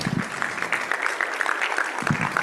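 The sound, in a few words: golf clap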